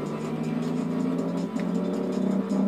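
A car engine in Forza Motorsport 3 holding steady revs, a continuous buzzy mechanical drone with a slight rise and dip, loud and close with no voices over it.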